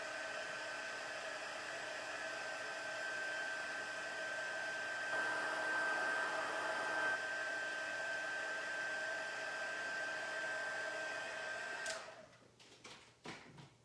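A heat tool melts embossing powder on holiday treat packaging, giving a steady, close blowing whir with a thin whine that runs for about twelve seconds, then clicks off into faint handling noises.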